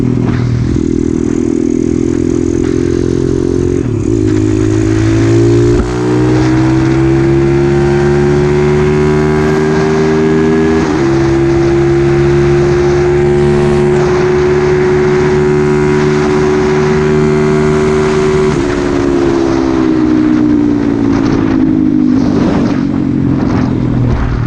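Motorcycle engine droning loud and steady at high speed for the whole stretch, working up toward 70 mph with audible gear changes and rising pitch, wind and road noise throughout.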